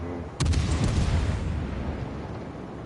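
Battleship guns in a video game fire with one sudden, heavy boom that rolls into a long, deep rumbling decay, loud and close, with no voices.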